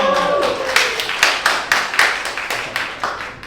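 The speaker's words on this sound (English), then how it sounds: "Clap it up for pit bulls being legal." Audience clapping at a stand-up comedy show, with a voice fading at the start, then a few hands clapping loudly and close in a fairly regular rhythm for about three seconds.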